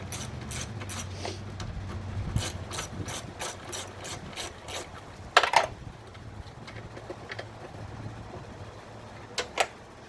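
A ratchet backs out a 10mm bolt holding the bottom of the air box on a 2009 Hyundai Genesis 4.6, giving rapid bursts of close, crisp clicking, then a few sharper metallic knocks and a last short click run.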